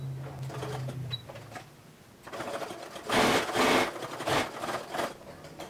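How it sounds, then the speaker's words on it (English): Top-stitching along an edge of a fabric walker caddy, a sewing machine whirs in short bursts and reverses to backstitch and reinforce a corner. Close and steady, with brief pauses and no voices. "going to do is top stitch down this edge. And I'm going to backstitch at an angle here just to reinforce this corner."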